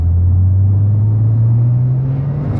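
A 2011 Porsche 911 Turbo S with a manual gearbox accelerating in third gear: a steady, loud, close engine drone climbs slowly in pitch over a few seconds, with no voices.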